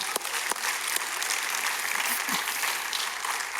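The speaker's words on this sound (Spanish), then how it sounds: "Denle otro fuerte aplauso al Señor." A church congregation claps steadily at moderate volume, with a few sharp individual claps standing out early on, then settles into an even, continuous patter.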